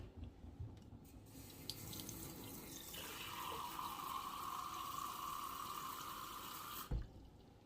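Tap water runs into a measuring cup for pizza dough, a steady splashing stream after a few faint clinks, filling for about four seconds before it cuts off with a clunk.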